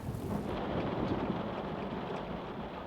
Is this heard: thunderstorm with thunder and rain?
yes